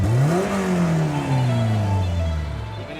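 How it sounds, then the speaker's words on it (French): A car engine blips under a quick stab of the throttle, its pitch climbing sharply and then sliding slowly back down as the revs fall, close and loud over about three seconds with no talking. "bien un coup d'accélérateur"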